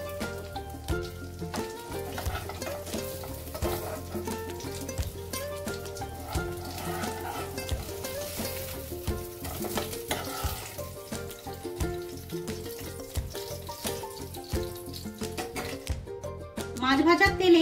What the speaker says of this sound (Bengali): মাছ ভাজার তেলেই আমি এখন শুকনো লঙ্কাগুলোকে ভেজে নেব।